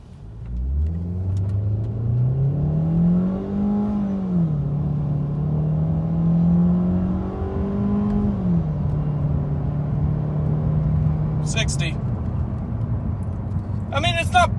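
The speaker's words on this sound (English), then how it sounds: "I'm going to stop on the on-ramp for the interstate, and I'm going to show you guys some acceleration" A car pulls away from a stop on an interstate on-ramp, its medium engine droning and rising in pitch through the gears with shift dips. A voice talks over the steady, close engine rumble.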